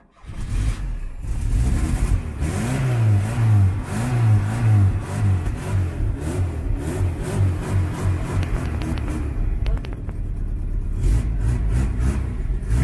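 An old scrap Tofaş car engine runs loud and close, revving in repeated rising and falling surges before settling toward a steady idle, with no talking.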